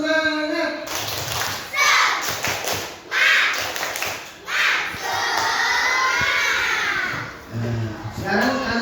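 Schoolchildren in a classroom performing a rhythmic group clap, bursts of clapping alternating with shouted chanting voices, loud and close, with gaps between phrases.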